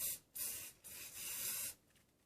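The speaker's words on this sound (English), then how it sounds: "I always give this a really good spray" Hairspray hisses in three bursts onto a vintage roller set, a short one then two long sustained blasts, close and loud, with brief pauses between.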